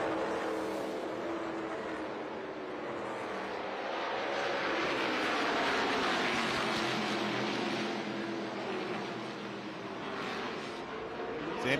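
Stock race cars of the ARCA Menards Series East roar around Five Flags Speedway in a race, a dense, steady engine drone that swells and fades slightly as the pack passes, with no voices.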